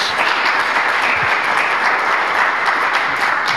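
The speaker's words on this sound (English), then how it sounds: "I think we should give them a big round of applause." A big audience round of applause, dense and steady, filling the whole stretch at close range with no pauses.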